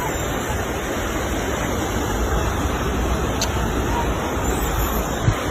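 Floodwater rushes through Kenitra, Morocco, as a loud, unbroken roar of churning water with wind buffeting the microphone, steady from start to finish.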